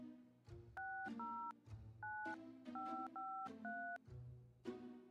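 Telephone dialing in the video game My Winter Car: a quick run of about seven two-tone keypad beeps, clean and close, each short tone separated by brief gaps, with faint low background noise between them.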